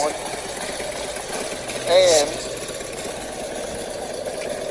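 Motorcycle engine fitted with an aftermarket stage 4 exhaust, idling steadily and loud throughout, with a short rev swell near the middle and people talking over it.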